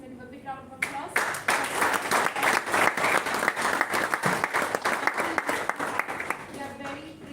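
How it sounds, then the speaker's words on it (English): A big round of applause from an audience at a national-level oratory contest and group discussion event, loud and dense clapping that starts suddenly and continues steadily, with a faint voice at the very start and end. "Give a big round of applause."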